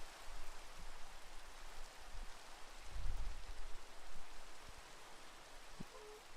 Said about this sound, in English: Let the rain pass by.